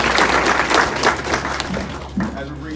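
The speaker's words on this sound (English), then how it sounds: "give yourself a round of applause." Audience applause at a university information session on campus, steady clapping filling the room for a few seconds alongside overlapping talk, with a voice rising near the end.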